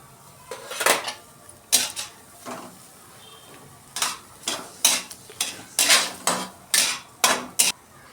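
Spatula or utensil scraping and clattering against a pan while onion is sautéed in oil, a run of sharp repeated metallic knocks in irregular bursts, close and fairly loud, with no talking.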